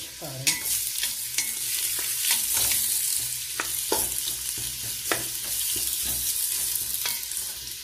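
Tomatoes and onion frying in oil in a pot, a steady close sizzle broken by scraping stirs and small clinks, with no voices.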